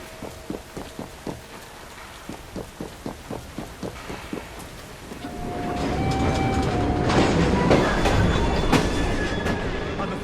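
Train running on rails in the video game Assassin's Creed Syndicate, a steady clickety-clack of wheels over rail joints that swells into a loud continuous rumble with faint squealing tones.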